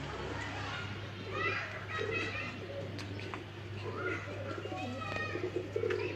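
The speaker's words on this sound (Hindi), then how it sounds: "यह कबूतर है चीना" Cheena pigeons cooing in a loft, soft repeated throaty coos over a steady low hum, with children's voices and other chatter faintly in the background.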